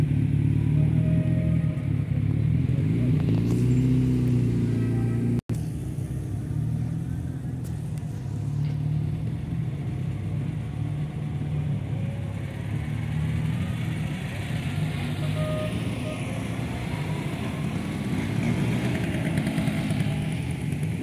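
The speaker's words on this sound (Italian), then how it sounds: "Che ruggiti che fanno i motori." Several vintage car engines rumble and idle steadily at a classic car show in Novara, a continuous loud, close engine drone with occasional rising revs and faint crowd voices underneath.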